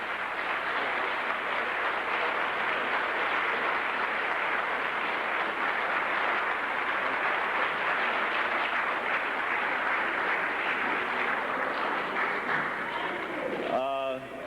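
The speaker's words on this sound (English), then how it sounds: "Dr. Amos Wilson, let's give him applause." Sustained applause from a large audience, steady and loud throughout, with a few voices calling out near the end.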